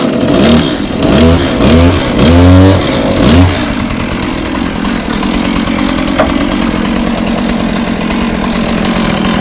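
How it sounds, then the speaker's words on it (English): A chainsaw revs up in a few throttle bursts, then settles into a loud, steady running drone close by during roof repairs. "Never start a chainsaw like this."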